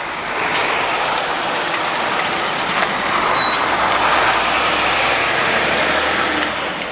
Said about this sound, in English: There's still an awful lot of lorries around here.